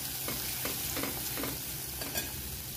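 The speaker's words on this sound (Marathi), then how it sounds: "याची ही पेस्ट आपण तेलात अशी छान परतून घेणार आहोत" A paste of peanuts, garlic, cumin and green chilies sizzles in hot oil while a spoon stirs it in a few soft, rhythmic scrapes, heard close and fairly quiet.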